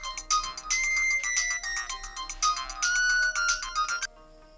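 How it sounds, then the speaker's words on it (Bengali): A mobile phone ringtone rings loudly in a domestic drama scene, a bright repeating electronic melody in regular bursts for about four seconds before stopping abruptly. "আমার ফোনটা বাজে"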